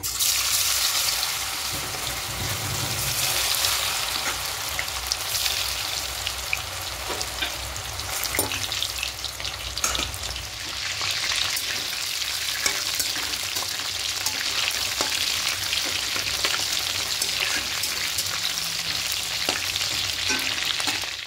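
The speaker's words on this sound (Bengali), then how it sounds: "তেলটা গরম হয়ে গেছে। এবার এখানে সয়াগুলো দিয়ে দেবো।" Soya chunks frying in hot white cooking oil, a continuous close bubbling sizzle with occasional stirring scrapes and clinks, steady for the whole stretch, with no talking.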